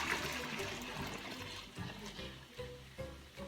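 Heated milk for homemade yogurt pours from one container into another in a continuous liquid stream, with gurgling and splashing throughout.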